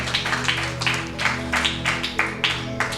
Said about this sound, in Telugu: గట్టిగా చప్పట్లు కొడుతూ దేవి నామాన్ని మహిమ పరుద్దాము